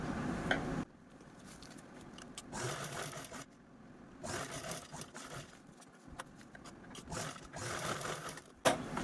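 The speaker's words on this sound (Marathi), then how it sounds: "मी पूर्ण याच्यावरती स्टिच पण करून घेणार आहे" A sewing machine stitches a blouse pocket in runs of steady, rapid needle chatter that start and stop between quiet pauses, close and moderately loud, with no talking.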